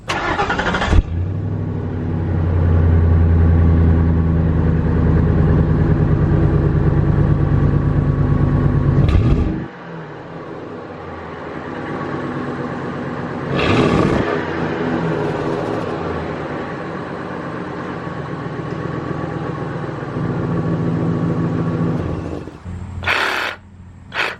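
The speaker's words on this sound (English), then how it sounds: "let's get the sound clip of our factory exhaust" A 1998 Ford F-150 pickup's engine idles through its factory exhaust with a steady low rumble, one brief rise in revs partway through, no voices.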